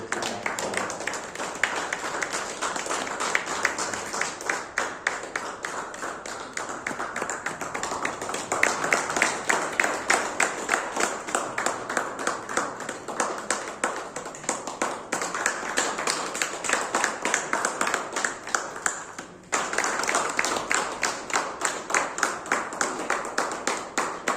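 Audience clapping at a felicitation ceremony in Bilaspur, a dense, steady patter of many hands that runs for over twenty seconds at an even level, briefly dipping once near the end before resuming.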